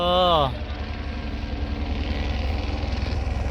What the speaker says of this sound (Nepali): सुदिहाङ जाने हेलिकप्टर आउँदैछ।